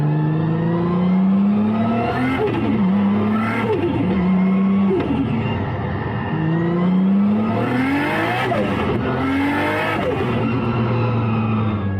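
Nissan GT-R driven through Sydney traffic: a loud, close engine that repeatedly revs upward through the gears, each climb followed by a shift and renewed acceleration, with no talking.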